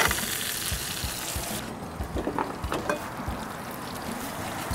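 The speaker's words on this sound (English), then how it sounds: "Let's saute this vegetable. Put a little bit of oil." Vegetables sautéing in a little oil in a pan while mackerel adobo is being cooked, giving a steady hiss and sizzle with faint scattered clicks and taps from stirring.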